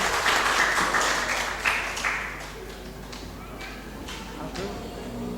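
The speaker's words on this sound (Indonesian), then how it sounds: "Mari kita berikan tepuk tangan yang paling meriah untuk kita semua" A church congregation at an Easter anniversary service applauds, loud at first and then thinning into scattered claps, with a voice speaking over the clapping.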